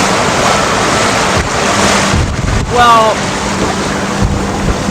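Strong wind buffets a reefed sailboat at sea off San Diego, a steady loud roar with rushing water throughout, while a person speaks briefly partway through.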